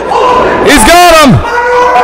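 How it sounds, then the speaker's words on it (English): Independent wrestling crowd in the Sanctuary venue roaring during a match, a loud surge of cheering and shouting that swells mid-moment under a commentator's voice. "listen to this sanctuary crowd. The congregation coming alive."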